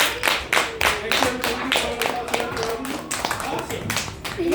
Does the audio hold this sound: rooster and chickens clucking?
no